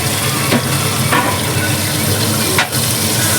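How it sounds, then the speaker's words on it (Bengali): Potatoes frying in a small amount of oil in a home kitchen, a steady loud sizzle with a few sharp stirring scrapes, no talking. "চলো আলুগুলো ভেজে নিই"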